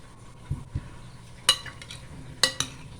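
A spoon stirs vegetables with oil in a pot, giving a few distinct scraping and clinking strokes against the metal, close by, over a quiet background without talking.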